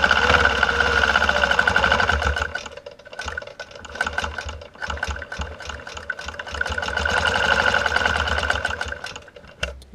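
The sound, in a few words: sewing machine quilting feathers on a quilt block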